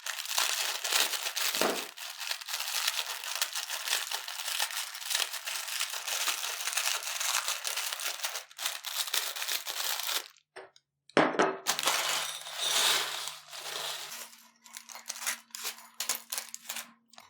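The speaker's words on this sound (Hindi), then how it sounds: "अब हम लेंगे 1 अदद पैकेट नूडल का, हल्का सा हम इनको तोड़ लेंगे।" A packet of dry noodles is snapped and crushed by hand for crispy potato noodle snacks: dense crinkling and brittle cracking, close and loud, pause briefly, then resume alongside a steady low hum.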